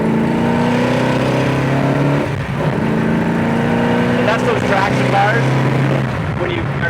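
A 1971 Dodge Challenger R/T accelerating hard on a road with gear shifts near 4,000 RPM, a loud continuous engine roar rising and dropping between gears, close to the listener with a voice talking over it.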